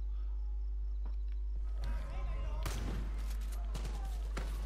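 Enemy gunfire in the Far Cry 5 video game cracks out in several sharp bursts and single shots, rising over a steady low hum with faint insect-like chirps.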